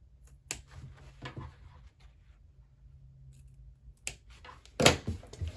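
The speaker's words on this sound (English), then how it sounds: "then we're gonna snip into the corner of the box, not snipping your threads though" Sewing scissors snip into the corner of a sewn fabric box: a few sharp, close cuts spaced apart, with a louder crisp snip near the end and quiet pauses between.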